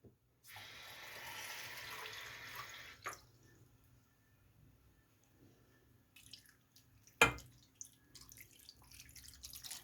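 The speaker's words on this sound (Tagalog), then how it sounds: "Tapos, maglagay ako ng kunting tubig." Water pours steadily into a cooking pan over olive oil for a couple of seconds, then stops; faint clinks and one sharp knock follow in a quiet room.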